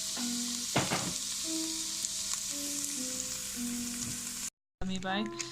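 Cauliflower rice fries in butter with salt and pepper, a steady close hiss and sizzle with a brief utensil clatter near the start and a short silent cut near the end.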